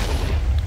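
A creeper explodes in a Minecraft-style cave game, a single dull booming burst filling the whole short moment, heavy in the low end.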